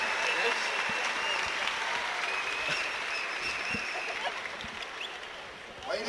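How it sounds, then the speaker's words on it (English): An audience at a high school state wrestling championship final round applauds an Oregon Wrestling Hall of Fame member, a steady wash of many hands clapping at moderate distance that continues evenly throughout. "again, a nice round of applause for your Oregon Wrestling Hall of Fame member"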